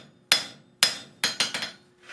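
Hammer blows on hot metal forging a flux spoon: five sharp, ringing strikes close by, two spaced apart and then three in quicker succession, each decaying quickly.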